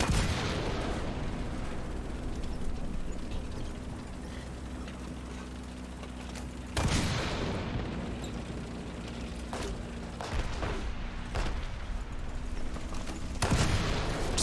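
Merkava 2 tank cannon in War Thunder firing smoke shells, two heavy booms spaced several seconds apart over a constant engine rumble and mechanical clanking, with smaller clicks between shots.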